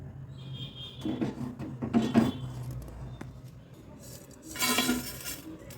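Roasted whole spices with cardamom scraped from a pan onto a plate, giving a few scattered metallic clinks and scrapes, with a louder rattling burst near the end.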